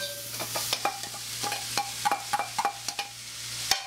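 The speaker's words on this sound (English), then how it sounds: "we're going to begin tossing the peppers in there, the garlic," Peppers, garlic and onions sizzle and crackle in a hot pan, a steady close hiss punctuated by repeated sharp clinks and scrapes as the vegetables are tossed and stirred, with no voices.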